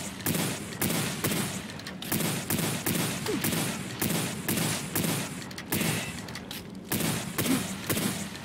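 Rapid, relentless gunfire in the dark fantasy shooter WRATH: Aeon of Ruin, loud repeated shots firing in quick regular bursts with no gaps, close and dominating throughout.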